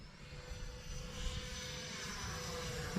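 An FMS Viper 70mm RC jet, a ducted-fan model with landing flaps and gear down, passes overhead with a steady, fairly loud whooshing whine that holds throughout.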